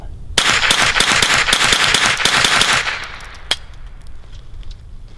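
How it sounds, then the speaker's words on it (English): Rapid semi-automatic rifle shots fired outdoors at close range, about ten sharp cracks in quick even succession, loud and near, followed by a brief pause and one more distant-sounding snap with quiet ambience. "you can see how quickly I can shoot this with absolutely no issues because of how steady I am"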